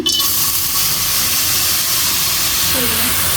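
A loud, steady sizzling hiss of leafy greens hitting a hot wok as salt is added, continuous throughout with faint voices underneath.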